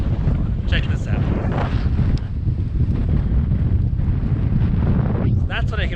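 Strong wind blowing over sand at Great Sand Dunes at sunset, a loud continuous roar buffeting the microphone with gusts throughout, and a voice briefly audible beneath it.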